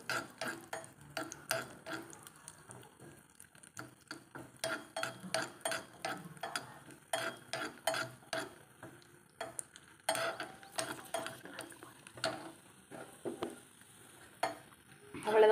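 Cashews and raisins are stirred in a pan for home-style kesari, making irregular bursts of spoon scraping and clinking against the metal over a faint background, close and without talking.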